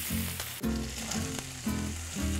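Pancetta sizzles in a hot pan, a dense close frying crackle with a few stirring scrapes and clinks at regular intervals over two and a half seconds, with no talking.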